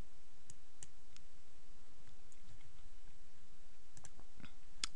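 Computer mouse clicking during WordPress plugin settings work: a few sparse, sharp clicks scattered over a quiet background hiss, close and fairly faint, with no talking.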